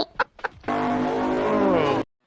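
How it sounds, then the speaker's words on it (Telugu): A bus pulls in within an animated cartoon scene, its steady droning engine tone holding for about a second and a half, loud and close, right after two short vocal bursts. "బస్సు వస్తుంది, వెళ్ళిపోవచ్చు."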